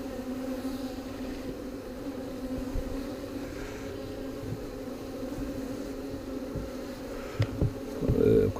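Honeybees at a hive buzzing in a steady, close drone throughout, with a few soft knocks and handling noises near the end.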